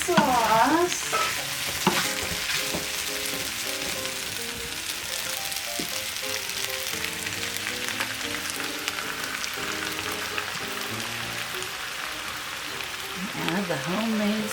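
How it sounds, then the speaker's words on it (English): Homemade sweet and sour sauce sizzles steadily in a hot pan on low heat while it is stirred, a continuous close frying hiss with scraping under it and a voice briefly talking at the start and end. "Let's put the sauce on. And you add the sauce."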